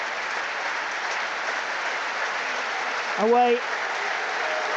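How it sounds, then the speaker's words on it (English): Steady stadium applause fills the City Ground before a Premier League match between Nottingham Forest and Sheffield United, a continuous broad wash of clapping from a large crowd, with a brief spoken word near the end. "Before kick-off here we are having a minute's applause in honour of the memory of two Forest greats who passed"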